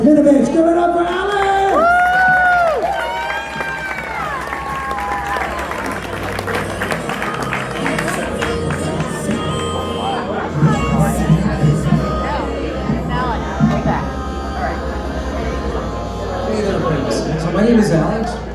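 At an open mic comedy night at the Improv, an audience applauds and cheers for a comedian walking on stage, with continuous clapping and crowd noise under a host's voice and scattered chatter.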